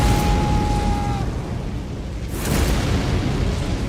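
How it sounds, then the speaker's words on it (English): A charged heavy weapon attack in the Elden Ring Convergence mod erupts into a loud, sustained explosive roar, dense rumbling that swells again midway without pause. "if I do charged R2s at this point, I do a fucking explosion with this weapon?"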